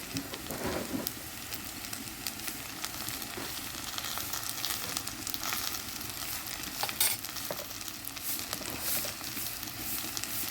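Spice powders of coriander, chili and turmeric fry in a pan for chickpea curry, giving a soft continuous sizzle with occasional stirring scrapes, fairly quiet and steady.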